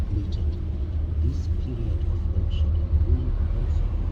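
Car rolling along a morning highway in South Africa, a steady low road rumble and engine drone held throughout at close range, with faint higher noises drifting over it.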